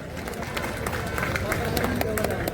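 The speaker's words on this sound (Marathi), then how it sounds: "टाळ्या वाजवायच्या सर्वांनी, ग्रामस्थांनी." Crowd of villagers clapping steadily at a kusti wrestling match in Wadki, Pune, a dense patter of many hands mixed with crowd noise while an announcer talks over it.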